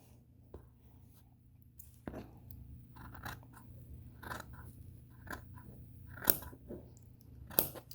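Scissors trim a fabric corner at an angle on a tote bag, giving a series of short, soft, close snips spaced irregularly over a low steady hum, with no talking.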